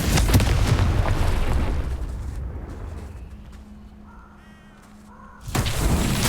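The Confringo spell blasts in Hogwarts Legacy as a burst of loud, dense fiery roar that fades into quiet, followed by a short crow-like caw and then a second loud burst at the end.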